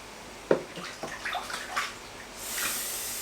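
Water splashes and sloshes in a tub as a ball python is washed, with a sharp splash followed by softer irregular swishes and then a steady running-water hiss near the end, close and fairly quiet.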